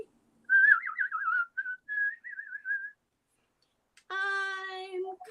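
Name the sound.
person whistling a tune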